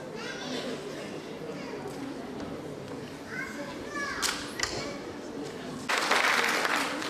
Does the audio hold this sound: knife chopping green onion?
no